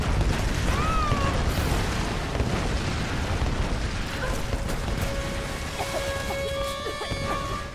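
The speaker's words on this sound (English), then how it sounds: "So many explosions!" Explosions in the action game Tomb Raider: Definitive Edition, a loud, dense barrage of booming blasts and debris filling the scene, fading slightly toward the end with a few tonal whistles and a voice briefly audible.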